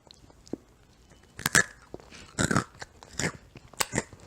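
Close, crisp crunches of a snack being bitten and chewed, coming in irregular bursts with quiet pauses between them.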